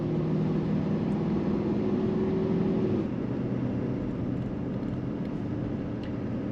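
A 2021 Chevy 3500 Duramax diesel truck towing uphill on a mountain road holds a steady low engine drone under throttle after a downshift, with a hum that shifts partway through and road and cabin noise underneath, fairly quiet and continuous.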